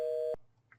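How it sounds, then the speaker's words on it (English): A phone call tone in the video game Mr. Love: Queen's Choice sounds as one steady electronic tone that cuts off, then starts again after a short silence, clean and close. "I snapped out of it and decided to ring Gavin up."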